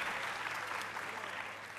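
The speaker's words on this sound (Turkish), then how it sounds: "Biraz da bas gitarı alkışlıyorum." A studio audience at a Turkish folk music night applauds the bass guitarist, a dense, steady wash of clapping that stays even and fades slightly at the end, with faint voices mixed in.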